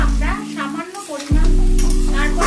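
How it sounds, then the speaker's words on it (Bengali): Crab cooked down with spice paste in a pan for a Bengali crab do-pyaza, a steady close sizzle with scraping stirs, joined by a loud low hum that drops out briefly mid-way. "এবার আমি মশলাটার সাথে কাঁকড়াটাকে ভালো করে কষিয়ে নিচ্ছি।"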